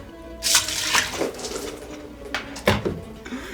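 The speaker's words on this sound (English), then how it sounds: "Let's add the water." Water poured into a cooking pot in a kitchen while making spaghetti, a splashing pour that comes in brief bursts with a louder gush near the end, close and moderately loud.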